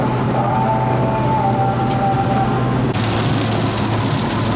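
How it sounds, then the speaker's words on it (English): Heavy monsoon rain drums on a BMW car while it is driven, a steady dense hiss with road and engine rumble underneath throughout. "We've gone from sweating our bollocks off to being in like monsoon rain"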